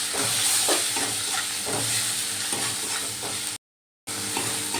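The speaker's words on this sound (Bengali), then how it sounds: "সব মশলা ভালো করে কষিয়ে নেব।" Turmeric and cumin powder being sautéed in a pan produce a dense, loud hiss and sizzle with stirring scrapes, broken by one brief moment of total silence before the frying resumes.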